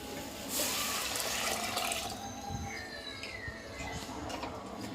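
Thick, wet mashed lentils are poured and tipped into a pot, with a steady sloshing, watery rush lasting several seconds, close by.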